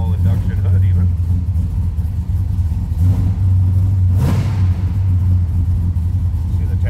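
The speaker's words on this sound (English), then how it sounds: "let's fire this up, let her warm up here a little bit" A 1970 Chevrolet Chevelle SS 396 engine runs with a loud, steady low rumble, rising briefly in a rev before settling back to idle, with voices talking over it.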